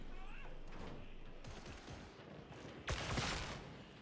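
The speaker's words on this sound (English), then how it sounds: "Someone shot at me." Gunfire in Warhammer 40,000: Darktide, a brisk fusillade of sharp rapid shots, scattered at first and then bursting loudly toward the end, fairly close with no talk.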